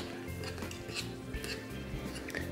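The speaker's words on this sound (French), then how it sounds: "je suis en train de touiller le SCI et l'eau et de les faire chauffer au bain-marie" Stirring SCI surfactant with water heated in a bain-marie for homemade solid shampoo, giving steady close clinking and scraping of a utensil against a bowl, with no talk.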